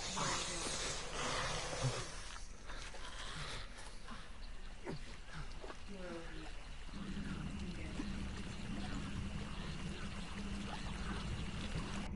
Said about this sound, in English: we're gonna have to cross the water